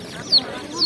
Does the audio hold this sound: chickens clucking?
yes